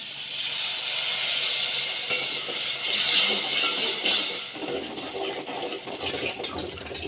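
Water poured into a hot pan of Chettinad mutton blood fry with chilli powder and ginger-garlic paste, giving a loud sizzling hiss that bursts up, holds for several seconds, then gradually settles into a softer, uneven bubbling.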